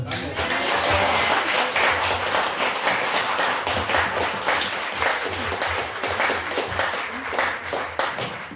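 A church congregation claps together in a loud, continuous burst, dense hand claps close by with a low rumble beneath, while voices carry through the clapping.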